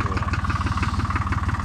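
A Güldner G40 tractor with a three-cylinder Güldner engine idles close by, giving a steady, loud, evenly pulsing low chug with no talk over it.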